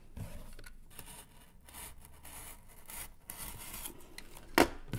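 Cardboard box being cut with scratchy, rasping strokes and rustling that come in uneven bursts, close-up, ending in a sharp louder snap or tear near the end, with no voices.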